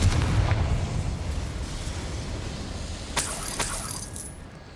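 A Confringo blasting spell explodes in Hogwarts Legacy with a deep rumbling blast at the start, then a sharp, bright crackling burst later, followed by brief rattling debris.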